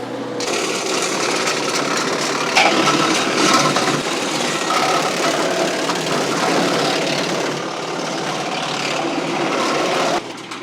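A tractor PTO-driven wood chipper with a hydraulic in-feed runs loud and continuous, grinding and crackling as it chews through branches, with a constant mechanical roar throughout.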